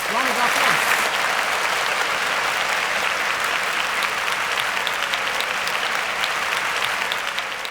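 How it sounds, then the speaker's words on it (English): Studio audience on a quiz show gives a loud, dense round of applause right after a correct answer, continuous and even throughout with no talking on top. "Round of applause."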